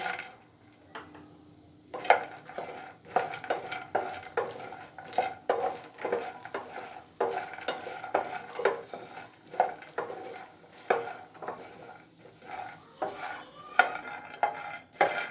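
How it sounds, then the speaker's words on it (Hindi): Fox nuts (makhana) roast in hot ghee in a pan while being stirred, giving a continuous close run of scraping, clattering stirs over a soft sizzle, with no talking. "अब हमारा घी अच्छे से गर्म हो गया है। ये मखाने इसमें डाल लेंगे।"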